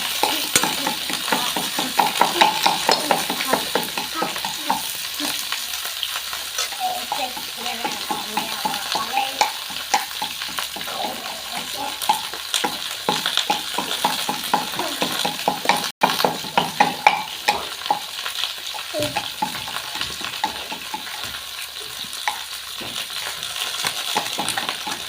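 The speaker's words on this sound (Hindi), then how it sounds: "गोभी पूरा अच्छा से भून लेंगे" Cauliflower stir-fried in a pan for a home-style potato and cauliflower curry, with steady sizzling and frequent scraping, clinking strokes of a spoon against the pan throughout, fairly loud and close.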